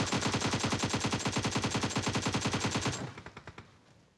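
Rapid automatic gunfire from the battle royale video game BGMI, a steady loud burst of closely spaced shots lasting about three seconds before breaking into a few scattered fading reports.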